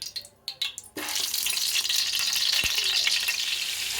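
Butter and oil sizzling in a cooking pot on a stove, a few soft clinks first, then a sudden loud, dense hiss of frying that continues steadily to the end.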